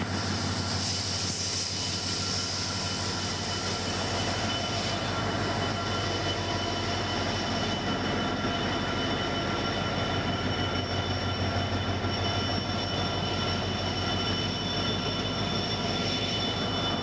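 The Pamban Express train rolls steadily along the rails with a loud, continuous rumble, rattle and faint wheel squeal, heard from on board with no talk.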